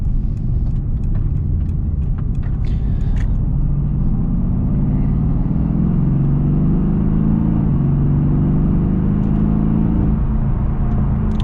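A Mercedes-AMG GT S engine rumbles low and steady, then rises gently in pitch as it mildly accelerates, a smooth drone with faint road noise and no voices.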